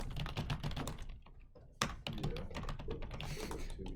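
Fingers type on a computer keyboard in a classroom, a quiet run of quick, uneven key taps with a short pause partway through and a sharper clack near the middle.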